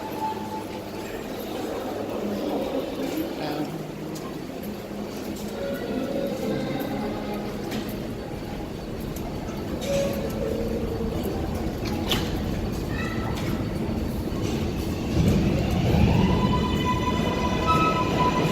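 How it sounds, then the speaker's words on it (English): A New York 7 train at 34th Street Hudson Yards gives a steady, close rumble of wheels and cars, growing louder near the end as a thin squeal rises. "This is the 34th Street Hudson Yards 7th train."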